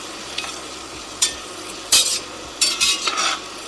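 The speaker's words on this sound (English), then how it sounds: "So what we want to do is cook these mushrooms down until they're softened." Chopped mushrooms cooking down in a soup pot, with a soft steady sizzle broken by a few brief stirring scrapes and clatters of a utensil against the pot, close and moderately quiet.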